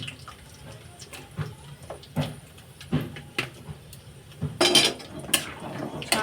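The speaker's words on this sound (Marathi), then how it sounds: "पहिले आपण शेंगदाणे ॲड करून घेऊया" Peanuts roast in oil in a pan for poha, with a spoon clanking and scraping in irregular strokes close by and a louder burst of stirring near the end.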